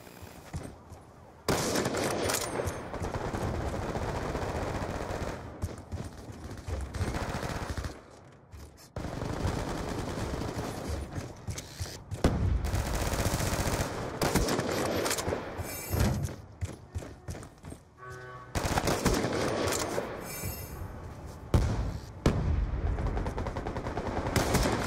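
Loud gunfire in a sniper shooter game comes in rapid automatic bursts and sharp single shots, separated by a few brief silent gaps.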